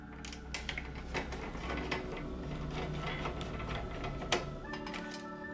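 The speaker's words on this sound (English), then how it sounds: "There are 2 Phillips screws that we have to undo." A screwdriver undoes Phillips screws on a PS4 Slim console, giving close, faint clicks and small scraping ticks over a steady mechanical hum, with one sharper click near the end.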